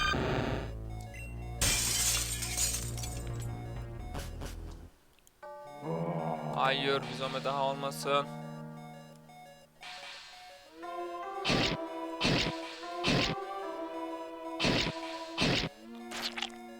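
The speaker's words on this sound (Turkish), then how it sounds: "Camı kır." Glass is smashed in the Pokemon Dawn video game: a bright crash with shattering fragments, followed later by a run of sharp repeated whacks. Someone talks briefly in between.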